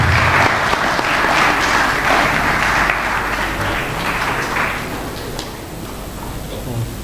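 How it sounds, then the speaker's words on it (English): Sustained applause from a large crowd at a conference valedictory session, steady and fairly loud throughout, easing slightly near the end. "Could you please give a big hand round of applause?"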